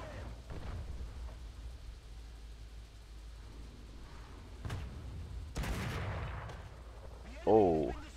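A Sherman II tank cannon in War Thunder fires at an enemy tank, a few heavy booming shots spaced apart over low engine rumble, with a deep blast near the end.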